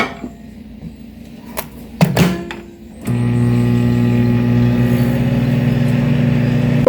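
Food being reheated in a microwave oven for one minute: a few soft clicks and a door clunk, then a steady, loud electrical hum starts abruptly and continues to the end.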